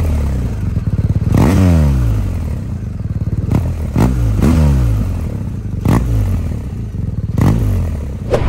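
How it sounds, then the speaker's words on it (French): A 2024 BMW R 1250 R roadster's exhaust burbles and rumbles up close, with several quick throttle blips whose pitch sweeps up and down, separated by short pops and clattering idle. "J'aime assez la sonorité hein, de l'échappement."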